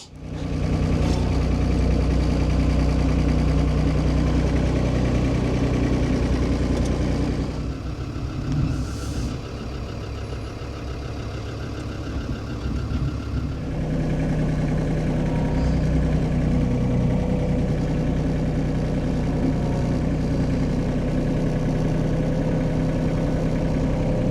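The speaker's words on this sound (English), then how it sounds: "She's driving a new tractor." A heavy diesel tractor engine rumbles steadily nearby, dipping briefly in the middle before returning to a constant idle-like chug.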